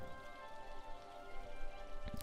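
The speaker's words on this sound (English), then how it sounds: "Okay, it's lightly raining." Light rain falling in the city-building game Cities: Skylines, a steady soft hiss of drops over a constant ambient tone, with a brief louder burst near the end.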